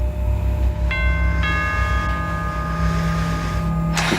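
A bell rings with sustained metallic tones that start in two quick strikes and hang in the air, ringing out over a low steady hum before cutting off.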